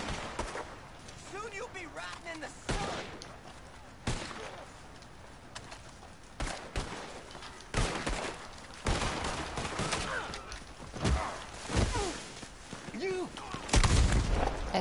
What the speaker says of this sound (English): shotgun to the dome